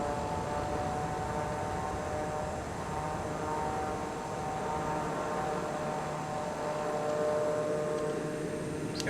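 A fixed-wing aircraft taxiing in Microsoft Flight Simulator 2020 near the Greek islands, a steady engine drone with tonal hum and broadband rush, continuous and fairly loud throughout without talk.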